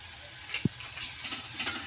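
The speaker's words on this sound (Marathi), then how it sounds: "मसाले सर्व तेलामध्ये चांगले फ्राय करून घेतल्यानंतर" Spices frying in hot oil for a chicken liver fry give a steady close sizzle, with one brief clink of a stirring spoon partway through.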